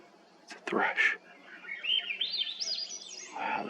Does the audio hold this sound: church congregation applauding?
no